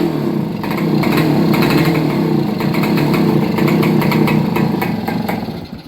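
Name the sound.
1966 Yamaha YA6 motorcycle engine running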